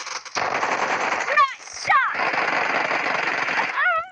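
Sustained bursts of AKM automatic gunfire in PUBG Mobile, loud and close, rattling on for most of the stretch with brief gaps and short swooping game effects between bursts.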